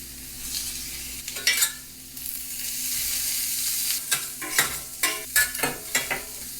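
Onions and carrots frying and sizzling in a pan, a steady hiss broken by several loud clattering stirs and scrapes toward the end, close up with no talking.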